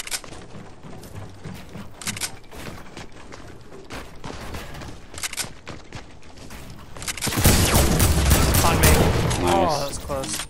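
Video game shooter gunfire in repeated bursts of single shots and rapid fire, growing into a loud dense volley near the end, with occasional talk between the shots.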